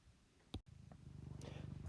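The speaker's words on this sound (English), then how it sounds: "So you'll hear a fair amount of meowing." A cat purrs close up in a steady, rhythmic low rumble that builds through the moment, with a brief sharp noise near the start; no voices are heard.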